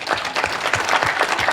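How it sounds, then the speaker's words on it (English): An audience at a hospital innovation conference applauds after a panel presentation, dense steady clapping from a full room, loud and continuous. "Big round of applause for Mark."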